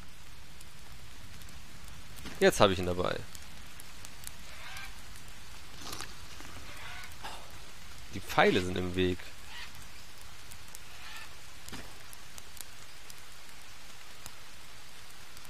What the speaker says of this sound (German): Jetzt regnet es wieder, war ja klar.